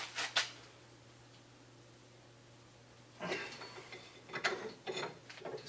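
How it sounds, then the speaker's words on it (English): A locking nut being tightened on an early Ford banjo axle during a rebuild: after a quiet stretch, a run of close, rapid ratcheting clicks and metallic ticks in uneven bursts. "Now I'm going to tighten this down independently from the front one so we don't snug the front one down anymore."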